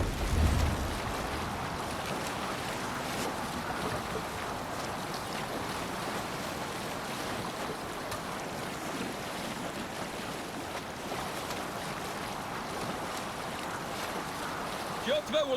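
A Viking longship sails across open sea in Assassin's Creed Valhalla, steady rushing waves and gusting wind filling the scene for a long stretch, with a voice briefly heard.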